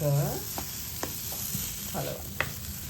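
Food sizzling and frying in a pan during Sri Lankan-style lunch cooking, with several scraping stirs of a utensil across the pan over a steady close hiss.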